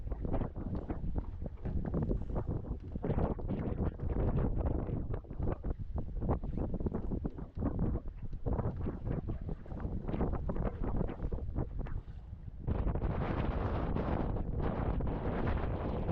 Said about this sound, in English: the north wind is just pounding against that south bank